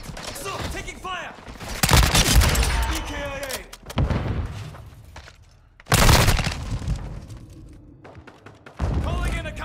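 Call of Duty gunfire from a Chimera assault rifle loadout, loud bursts of rapid automatic shots broken by short pauses, with game voice callouts over the shooting.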